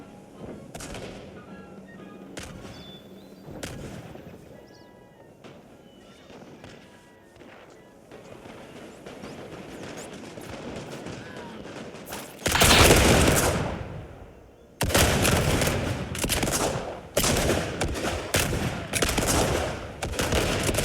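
Troops fire guns in a video game battle between German, French and British forces, with scattered distant shots and sporadic bursts swelling into dense, loud volleys of gunfire and explosions.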